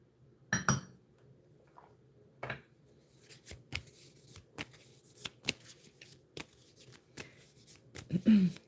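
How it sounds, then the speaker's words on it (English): Tarot cards are being shuffled close by in quiet surroundings, giving repeated soft riffling snaps and taps in an uneven rhythm, with a few faint clinks along the way. "All right, I'm going to shuffle."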